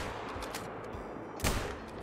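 A single gunshot from a hunting rifle aimed at quail in the hunting game Call of the Wild, sounding as one sharp burst partway through over steady ambient outdoor background noise.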